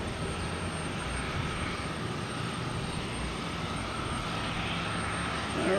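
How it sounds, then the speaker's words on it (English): A Delta Airbus A330-900 at Boston Logan Airport gives a steady, distant roar of jet engines on a stormy afternoon, holding even and building slightly at the end. "we have Delta A330-900"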